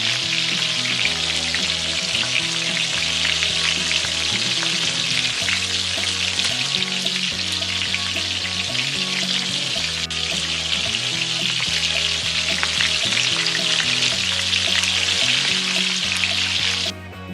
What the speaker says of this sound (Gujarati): બધા જ કંદમૂળને તળી લઈશું